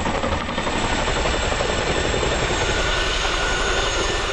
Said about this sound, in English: The Chinook, with its massive 60-foot rotors, was intended to carry very large payloads